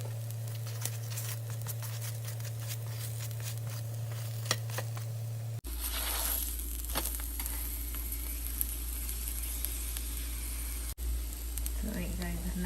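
Gobi paratha frying in butter on a pan, a continuous soft sizzle with light crackles and occasional scraping, while a person talks over it; the sound cuts abruptly twice.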